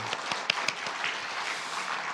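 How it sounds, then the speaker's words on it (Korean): A church congregation at a New Year special prayer night applauds, a soft, steady patter of many hands clapping in a room, with a few sharper claps standing out. "우리 박수하도록 하겠습니다"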